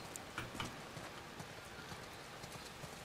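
Horse hooves in The Last of Us Part 1, a soft clip-clop of several steps at a slow walking pace, faint and steady with light rain-like patter around it and no talk.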